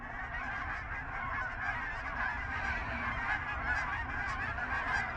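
A flock of Canada geese honks continuously during a goose hunt, a dense, overlapping chorus of calls at moderate distance with no talk.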